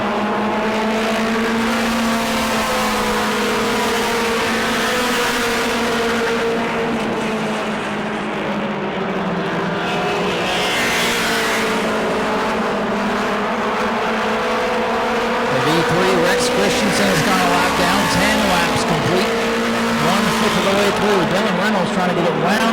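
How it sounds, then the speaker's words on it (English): Modified race cars roar around the New Smyrna track during a Mod Mini 50 race, engines droning steadily with rising and falling pitch as cars pass, under continuous race commentary. "Reynolds has a fast race car"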